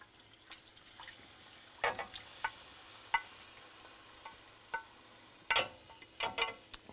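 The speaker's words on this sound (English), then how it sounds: "So now all of this is going to go into the pan with the leeks because we want that sauce." Beer-marinated shrimp sliding from a bowl into a pan with leeks, under a low sizzle. Scattered clinks and scrapes of a utensil come up close, with a busier cluster of clatter near the end.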